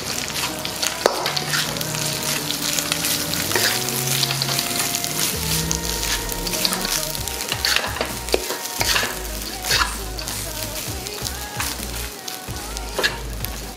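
Garlic fried rice sizzling and being stir-fried in a hot pan, a loud continuous crackle with scraping and tossing of the rice throughout, no talking.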